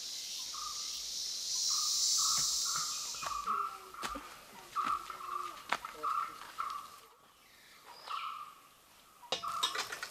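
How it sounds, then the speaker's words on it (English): Cicadas drone loudly in a forest botanical sanctuary, a strong sustained buzz that rises and fades, with birds calling and people talking nearby. "Those are the cicadas."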